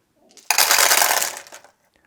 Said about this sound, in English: he'll be using 10 dice for this test